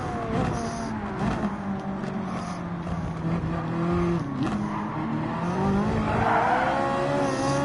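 Race car engine in Gran Turismo 7 during an online daily race, a loud steady high-pitched drone with rising and falling revs, shifting pitch and faint tire squeal, continuous throughout with no talk.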